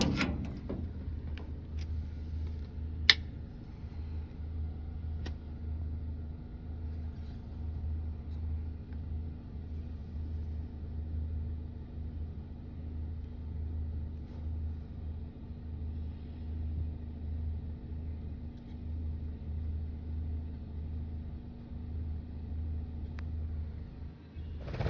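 Farm market truck engine idling after its batteries were reconnected, a steady low rumbling drone that runs throughout with one brief sharp click early on.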